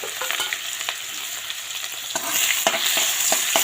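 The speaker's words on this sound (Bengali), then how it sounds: "তো এখন আমি ওই তেলেই তেজপাতা, কালো জিরা ফোড়ন দিয়ে দিলাম।" Bay leaves and nigella seeds tempering in hot oil left from frying fish crackle and sizzle up close, with sharp pops scattered throughout that grow louder and denser toward the end.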